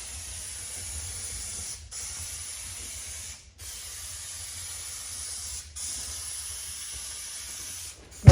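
A spray can or spray gun applies a coat of paint to a John Deere D140 lawn tractor mower part, a steady hiss running on with short pauses between passes.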